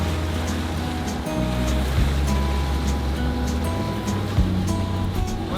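A sailboat motoring at about eight knots straight into the wind off the Greek island of Serifos, a low droning engine with shifting tones under steady wave wash and wind rush, with occasional thumps.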